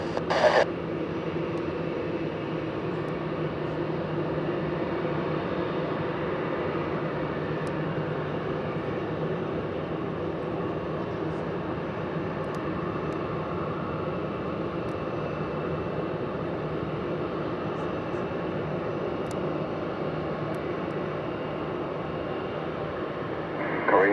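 A Korean Air Cargo Boeing 777 taxiing at Zurich airport gives off a steady, continuous jet engine rumble and whine, held at a moderate distance for the whole stretch with little change in level.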